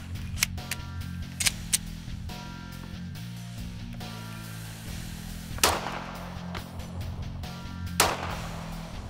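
The action of a Glock 19 pistol is worked by hand, giving a scattered series of sharp metallic clicks and snaps of varying loudness over a steady low background hum.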